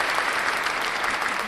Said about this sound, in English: Okay, give us another clap